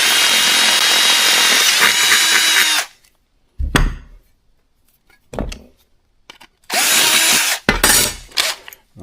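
A close power drill drills holes while installing a wiring kit on a 1968 C10 truck, a long whirring burst, then short triggers and another long burst, separated by clunks and near-silence.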